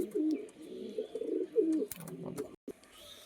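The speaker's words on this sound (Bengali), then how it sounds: "তো বন্ধুরা এই একটি পায়রা দেখুন" A Kalshira pigeon coos in a loft, a soft, low, throaty burbling repeated in short rolling phrases, close and fairly quiet, with faint background clatter.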